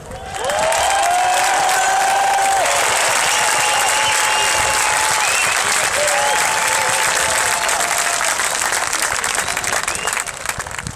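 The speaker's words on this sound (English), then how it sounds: "we're going to give an enormous round of applause for Mr. David Icke." Loud, sustained applause from a large crowd, dense and continuous, with a few voices and whistles rising above it.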